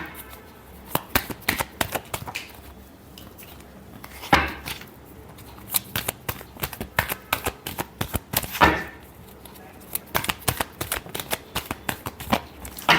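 A tarot deck being shuffled at close range, with repeated rapid riffles and snapping card slaps arriving in irregular clusters over several seconds, and brief pauses between bursts, heard with no talking.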